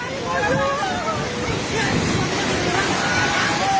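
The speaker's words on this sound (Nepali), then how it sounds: "खोला चाहिँ ढुङ्गेको बेटाइ जाने माथि आइसकेको छ" A flooding river in Nepal rushes with a dense, continuous roar that stays loud and unbroken throughout, while agitated voices are heard over it.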